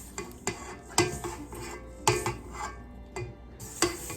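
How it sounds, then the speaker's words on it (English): Gluten free bread dough gets stirred in a bowl, with irregular scraping and clinking knocks of the utensil against the bowl, close and fairly quiet, with no voices. "let's mix it for just another minute to break that back up"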